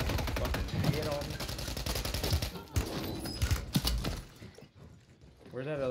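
Gunfire in the video game Plunder: rapid automatic bursts and scattered single shots crackle over a few seconds, thinning out toward the end, with voices talking over it.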